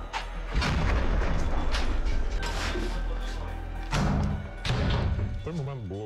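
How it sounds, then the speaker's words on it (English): Grenade launcher fire striking building windows during combat near Bakhmut, several heavy booms and thuds in quick succession mixed with crashing impacts, loud and close, with voices speaking over the noise. "They are firing at us, at the windows from a grenade launcher."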